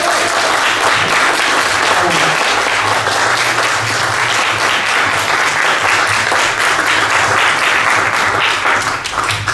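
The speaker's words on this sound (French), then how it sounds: "On peut les applaudir." Applause for the anglers at an international friendly coarse-fishing match in Prémery, a large crowd clapping loudly and continuously without pause.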